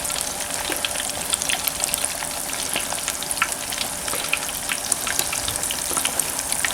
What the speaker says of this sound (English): After about 30 seconds, give them a little stir with your spider. And roll around in the oil.